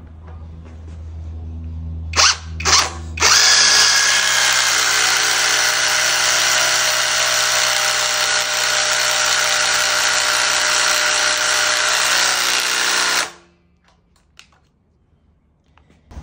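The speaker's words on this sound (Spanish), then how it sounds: "Este es el pirata, está en su velocidad máximo en la 4 y el mismo tornillo en la misma madera." A knock-off cordless impact driver at top speed drives a screw into wood, giving a couple of short bursts and then a loud, steady, high whirring rattle lasting about ten seconds before stopping abruptly.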